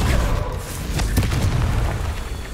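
A Confringo fire spell explodes in the video game Hogwarts Legacy, a loud, dense booming blast that keeps rumbling steadily for a couple of seconds.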